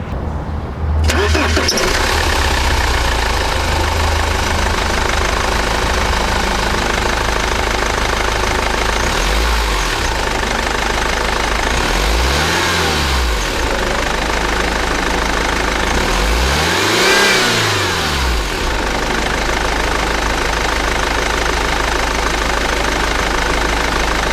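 A BMW 520d E60 with its 2.0-litre M47 four-cylinder diesel starts with a sharp crank, settles into a loud, steady clattering idle, then is revved up twice in quick rising-and-falling swells, close by with no talk.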